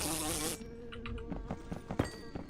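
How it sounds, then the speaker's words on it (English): A mosquito in the space game Create ad Astra buzzes loudly and close for about half a second, then fades into scattered faint clicks and soft game noises. "Oh, there's a mosquito."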